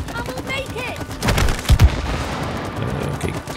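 Gunfire in the video game It Takes Two as shots hit a wall, a cluster of sharp booming blasts around the middle amid busy game noise, with players chattering over it.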